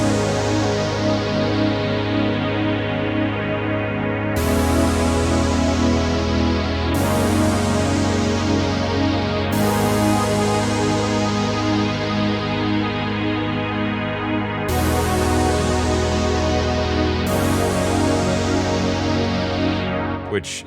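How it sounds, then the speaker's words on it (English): Retro 80s synth chord stabs built from two layered Model 84 patches, big sustained chords changing every few seconds with sharp attacks, loud and alone. "I brought in a couple big chord stabs here using 2 layers of Model 84"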